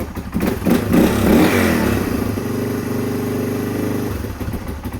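A Yamaha XT225 motorcycle engine runs on full choke after sitting ten months, a close, steady idle with uneven mechanical clatter and a brief rise in revs early on, before the sound drops away near the end.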